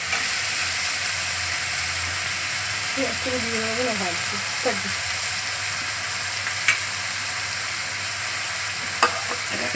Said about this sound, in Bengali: যে পেঁয়াজ ভাজা হচ্ছে পেঁয়াজটা একটু ভাজা ভাজা হবে